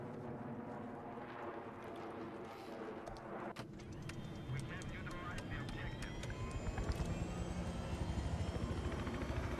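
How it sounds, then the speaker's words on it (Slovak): A helicopter in a video game drones steadily with a whirring engine tone that grows slightly louder and busier, amid other game sounds. "máme helikopteru, máme helikopteru"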